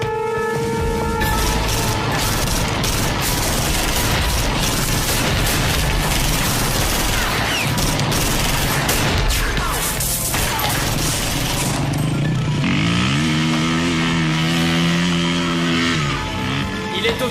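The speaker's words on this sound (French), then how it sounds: "Priorité absolue, en finir avec Lucie. Tirez à vue." Gunfire and booms in a French action film: a loud, dense, continuous barrage of shots, crashes and rumbling effects, giving way near the end to a sustained tonal swell.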